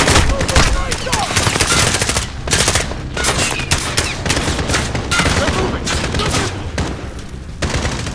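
Rapid machine-gun fire and overlapping gunfire bursts from Call of Duty: Modern Warfare gameplay, loud and nearly continuous with brief gaps, with shouted voices mixed in.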